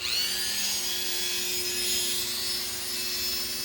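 Dremel rotary tool cleaning out a part of a 1/6 scale time machine model, a high steady whine with a grinding rasp against the material, close and continuous for a few seconds, no speech.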